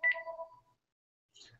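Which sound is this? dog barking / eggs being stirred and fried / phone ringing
phone ringing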